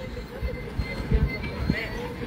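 A train passes with a low, uneven rumble and soft rattling, heard at moderate distance against street ambience, with faint voices mixed in.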